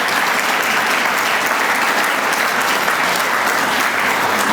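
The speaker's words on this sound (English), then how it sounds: "please give them a round of applause too" Loud, sustained audience applause for staff at an annual breakfast program, a thick, even roar of many hands clapping at once with no pauses and little else audible.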